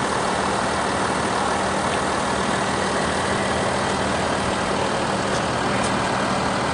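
An Audi A6 2.7 TDi S-Line Avant diesel in Daytona Grey idles steadily, with a constant low engine drone and broadband hum throughout and no speech.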